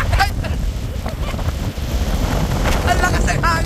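Gusty wind rushes across an open hilltop overlooking a cliff, a loud, uneven low roar pressing on the microphone throughout, with faint voices underneath.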